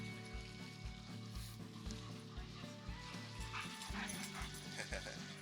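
A dog whimpers and yips close to a puppy, thin high cries repeating in short bursts over a steady low background hum, with faint speech-like sounds in places.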